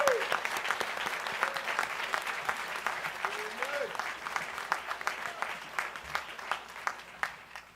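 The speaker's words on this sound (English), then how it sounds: "Let's all give them a round of applause." An audience at a graduation ceremony claps for the graduates, a sustained wash of applause with some louder individual claps near the front and brief voices mixed in.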